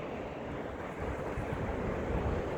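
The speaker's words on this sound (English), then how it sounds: "If you can't tell, it's very windy" Strong wind gusting steadily across the microphone at Bluestone Dam during a fishing outing, a continuous broadband roar that swells slightly louder partway through, with no voices.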